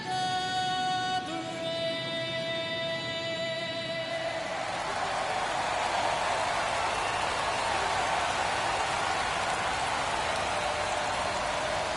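Rain falling in the baseball video game MLB 23, a steady hiss of downpour that fills the whole clip. Tonal crowd or stadium sounds fade out in the first few seconds, leaving only the even wash of rain.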